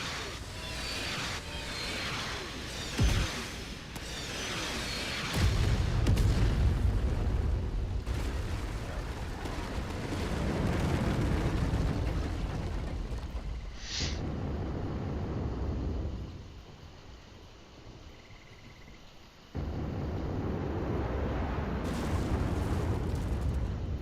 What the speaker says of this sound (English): Commencing bomb run now.